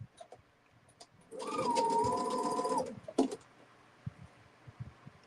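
A sewing machine runs in one steady, fairly loud burst of about a second and a half while quilt fabric wedges are chain pieced, with quiet handling clicks and taps before and after.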